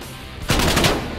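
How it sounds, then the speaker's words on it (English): Call of Duty gunfire, a loud burst of rapid automatic shots that cuts in abruptly after a quiet start and rattles on to the end, with no talking. "I think they got him here, because they're definitely shooting a lot"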